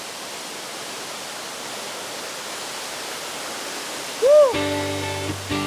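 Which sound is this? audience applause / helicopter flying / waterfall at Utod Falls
waterfall at Utod Falls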